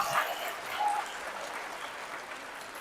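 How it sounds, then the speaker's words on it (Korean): A church congregation at a Korean Catholic parish evening gathering claps together in steady, dense applause that starts strong and gradually thins, heard from within the crowd. "박수를 칠 거면 확실하게."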